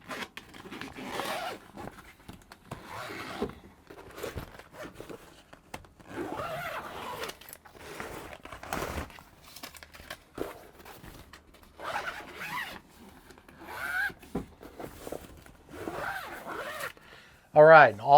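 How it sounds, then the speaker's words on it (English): A camper's vinyl screen window on a Northstar 650SC truck camper being zipped shut, a series of short raspy zipper strokes heard close by between stretches of someone talking. "close it back up, all you got to do is zip it back up"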